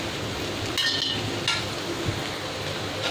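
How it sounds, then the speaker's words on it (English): Masala spices with red chili powder, turmeric and garam masala stirred in a frying pan, a steady sizzle with a few scraping clinks of the spoon, close, with no talking. "Now you have to keep stirring."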